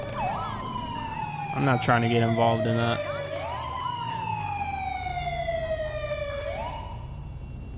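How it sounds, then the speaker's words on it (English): A police car siren wailing in a GTA V LSPDFR game session with a Crown Vic, a loud rising and falling tone that shifts into rapid yelps midway, while someone talks briefly over it. "Do you abuse the siren?"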